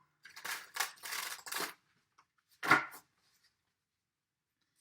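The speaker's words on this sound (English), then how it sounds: "One more shuffle." Tarot cards are shuffled in quick, crisp bursts of papery flutter, three close together and then one more after a short pause, with silence between them.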